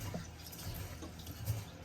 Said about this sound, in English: how many times you gotta wash the rice